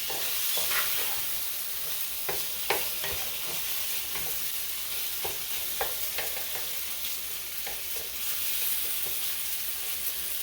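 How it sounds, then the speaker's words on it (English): Shrimp pork fried rice sizzles steadily in a pan while a spatula scrapes and taps through it in irregular strokes, close up with no voices. "And constantly stirring."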